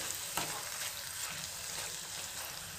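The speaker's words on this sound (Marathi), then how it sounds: "मसाले घातल्यानंतर तयार झालेली मिश्रण 1 मिनिट परतून घेऊयात" Spice and ground paste mixture sautéing in a pan for palak pulao, a steady soft sizzle and frying hiss with occasional stirring scrapes, close and even throughout.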